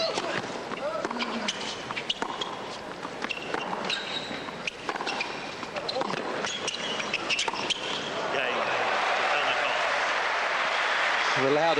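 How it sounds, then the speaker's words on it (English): A tennis crowd at the 2001 US Open semifinal breaks into sustained applause that swells and grows louder toward the end, with a voice talking over it. "Loud applause signifies the first real reward for Yevgeny Kafelnikov's efforts."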